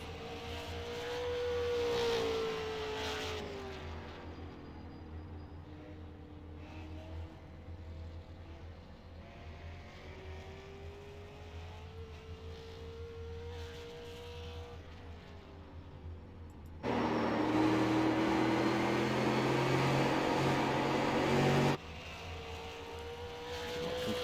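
A race car engine at the Lucas Oil Super 50 on a hot lap, a droning engine whose pitch rises and falls through the corners, heard from a distance, with a louder roaring burst as the car nears.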